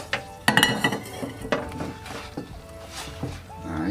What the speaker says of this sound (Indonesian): Nah, ini kita aduk sampai lembut ya